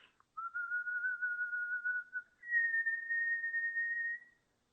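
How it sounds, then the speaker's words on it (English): A single person whistles a simple melody recorded as a voice memo: a long steady tone that steps up to a slightly higher held note, clear and close against silence. "I'm capturing that idea in a voice memo. So I whistled it."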